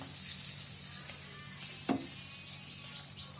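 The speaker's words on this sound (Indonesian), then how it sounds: "Kemudian kita menggoreng ayamnya." Chicken pieces fry in a pan for bubur ayam, a continuous close sizzle and crackle with a brief stirring scrape partway through and no talking.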